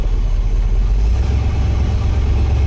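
A Chevrolet Impala engine runs steadily with a deep, loud rumble after a new transmission is installed, a low drone with a slight shift in pitch partway through and no voices.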